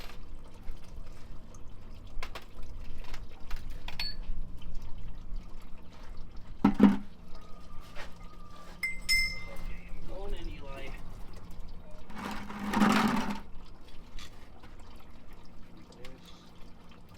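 Gear oil drains from three feed wagon gearboxes at once on a Supreme 1700 feed wagon, a steady thin trickle and pour with intermittent drips, heard under occasional talk and a few clanks.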